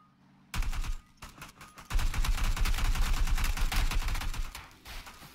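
Gunfire in the video game PUBG: loud, close rapid bursts of shots, a short volley followed after a brief pause by a longer sustained stretch of fast automatic fire.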